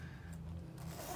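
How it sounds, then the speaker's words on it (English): Zipper on a bag organizer compartment drawn in one short, smooth pull, close-up and fairly quiet against a soft background hum. "smooth, nice zipper, as you can see."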